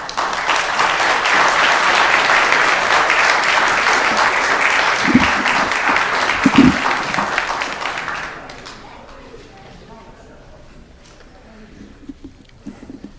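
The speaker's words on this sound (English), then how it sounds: "folks applauded Ray right when I said 25 years" Crowd applauding at a city council meeting to honor an employee's 25 years of service, a dense steady wash of many hands clapping for about eight seconds before fading to quiet room tone with scattered taps.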